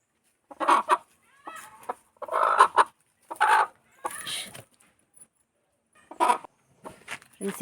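A hen clucks in a series of short bursts with brief pauses between, close and fairly loud, with no other sounds around it.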